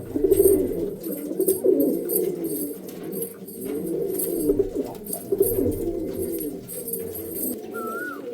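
A male Kalanka pigeon coos repeatedly nearby, low rolling burbles in uneven bursts with short pauses, against faint background noise and no speech.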